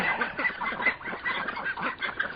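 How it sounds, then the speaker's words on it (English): Young Peking ducks and ducklings at a vineyard quack and honk repeatedly in a busy overlapping chorus, fairly close and lively with no voices. "They're a few months old now, Peking ducks."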